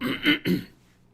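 Someone clears their throat twice in quick succession, a close, rough two-part rasp that fades into silence.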